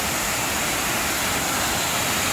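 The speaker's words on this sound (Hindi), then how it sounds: "बहुत खूबसूरत वाटरफॉल है, अब देखिए एक बार।" Steady broadband roar of a beautiful waterfall on the mountain route from Latti to Shiv Gali top in Jammu, loud and continuous with no other sounds over it.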